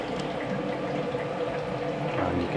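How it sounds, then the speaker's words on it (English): Humidifier fans in a mushroom farm grow room run as a steady, dense whooshing roar with a watery, bubbling texture, loud and continuous throughout, with no talking. "as you can hear, the fans have kicked into gear"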